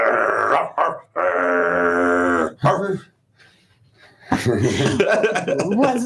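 A voice imitates a dog, with drawn-out growls and gruff barking bursts, a short silent gap, then more rough, rapid growling.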